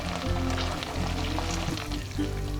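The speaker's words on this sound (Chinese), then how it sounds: "将淀粉水加入到肉馅中，翻炒到水分变干。" Char siu pork filling stir-fried in a wok after starch water is added, giving a soft steady sizzle with faint scraping and stirring strokes, fairly quiet and with no talking.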